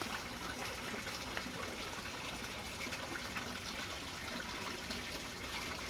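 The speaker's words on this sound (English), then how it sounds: "the last thing you do is water the plants" Water pours steadily onto soil around newly planted hoya cuttings, a continuous close gush with no breaks and no talk.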